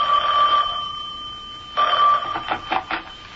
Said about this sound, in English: I was barely settled into my mother's house when the phone rang.